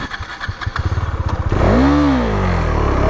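A KTM Duke 390 single-cylinder engine cranks with a rapid starter chatter, then catches about halfway through and blips with a loud rising and falling rev before settling into a close, steady idle.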